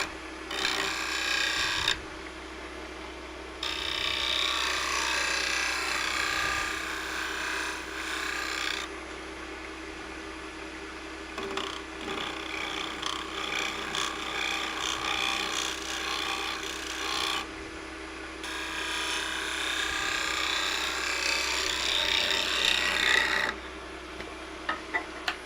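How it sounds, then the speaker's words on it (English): A negative rake scraper cuts an ash nut bowl on a wood lathe, giving a steady close rasping scrape over the motor hum that comes in bursts and stops briefly between passes. "It's a negative rake scraper"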